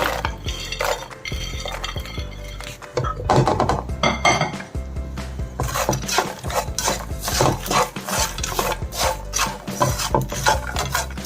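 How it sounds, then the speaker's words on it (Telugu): Fried makhana (lotus seeds) are tossed and stirred with masala in a pan, producing a dense, continuous rasping and rattling scrape with rhythmic sweeps, close and fairly loud. "కలుపుతూ ఉంటే మొత్తం కలిసిపోద్ది"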